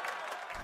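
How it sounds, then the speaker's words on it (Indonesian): A short burst of applause and cheering from a small group, loud and close, cut off quickly with no speech over it. "Guys, tepuk tangan buat Mario Lapre guys"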